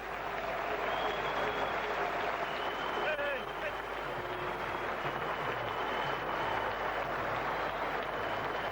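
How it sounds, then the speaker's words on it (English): Cricket crowd at a West Indies versus Pakistan Test match applauding a batsman reaching his century, a steady wash of clapping from the gallery throughout, with a commentator's voice over it. "Under pressure, being applauded by the gallery there."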